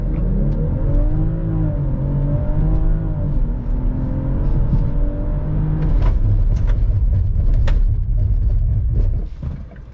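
A 2021 BMW X5 xDrive45e plug-in hybrid SUV weighing 2.4 tons launches hard, its engine note rising steadily through the gears, loud and close, with wind and road rumble building before easing off at the end.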